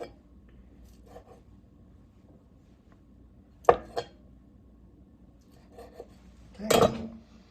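Two crisp knife strokes slice food on the bias against a board in a quiet kitchen, spaced a few seconds apart and close up.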